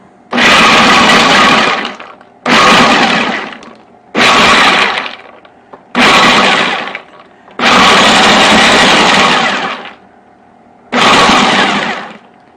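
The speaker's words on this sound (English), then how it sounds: "I'll do the Brazil nuts half at a time to make sure they get chopped because they're a little bigger." A food processor chops Brazil nuts in loud, repeated pulses of a few seconds each, a harsh rattling grind of hard nut pieces against the blade, separated by short quiet gaps.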